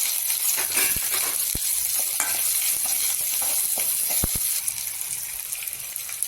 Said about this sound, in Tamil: கடுகு கொஞ்சமே காரத்துக்கு வர வரமிளகாய் வெங்காயம் சேர்த்து நல்லா வதக்கிக்கணும்